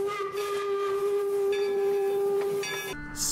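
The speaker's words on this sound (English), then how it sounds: "American steam trains with the big plow on the front and the giant funnel and the whistles" An American steam train's whistle in a video game blows one long, loud, steady tone with a hiss of steam beneath it, then cuts off sharply near the end.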